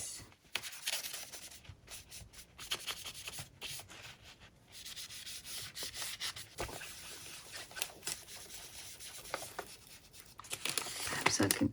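Ink is rubbed onto a paper page of a junk journal in quick, scratchy strokes, heard close with brief pauses between bursts of rubbing.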